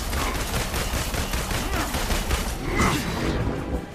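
Sustained gunfire in the Marvel's Avengers video game, dense and continuous rapid shots with a booming low rumble throughout, loud and close, with a brief swell near the end.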